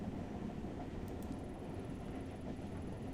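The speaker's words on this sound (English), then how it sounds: "As the train made its way there" A train travels in the video game Tokyo Dark as a steady low rumble with a constant rolling hum and no breaks, heard alone at a moderate level.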